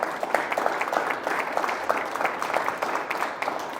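Steady applause from a seated audience at the close of a Spanish-language history conference, a dense wash of many hands clapping continuously for the full stretch at even loudness, with no talk over it.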